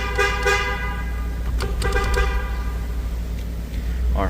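A 2016 Ford F250 horn being tested after a clockspring replacement, giving a couple of short, loud honks over a low steady engine idle, close by.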